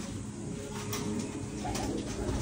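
Pigeons cooing in a breeding loft, a steady close chorus of soft, low throaty coos that runs without a break and with no voices.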